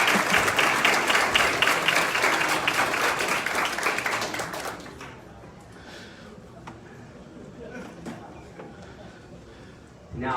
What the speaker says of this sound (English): So give a huge round of applause to this class.